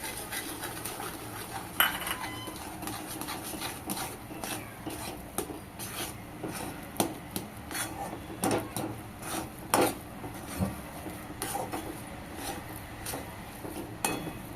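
Repeated scraping and knocking of a utensil against a metal pot as rice flour is stirred into boiling water, irregular strokes close by, with no voices.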